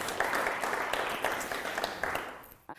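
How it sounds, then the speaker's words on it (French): A conference audience gives brisk applause, dense clapping close and fairly loud that thins out and cuts off abruptly at the end. "vous pouvez l'applaudir"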